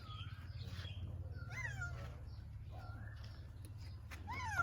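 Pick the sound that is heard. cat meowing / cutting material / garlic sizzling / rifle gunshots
cat meowing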